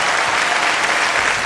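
A studio audience at a Chinese variety show breaks into loud, sustained applause to welcome a famous musician, the dense clapping steady and even throughout.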